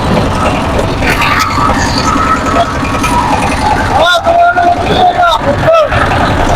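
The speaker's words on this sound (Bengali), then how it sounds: "আমরা এখন নৌকা ভ্রমণে যাচ্ছি।" A boat engine drones steadily during a family river trip through the haor wetlands, with the engine rumble constant under several people's chatter.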